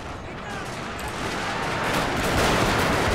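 Massed gunfire from musket units in a Total War: Shogun 2 battle, a dense, steady crackle of many distant shots blending into a continuous roar that swells slightly toward the end.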